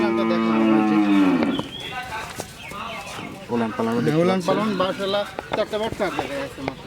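Holstein Friesian, Red Friesian and Jersey heifers moo close by, drawn-out low calls mixed with someone talking over them, and a hint of chickens in the background.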